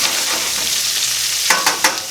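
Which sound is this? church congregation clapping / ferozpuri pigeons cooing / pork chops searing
pork chops searing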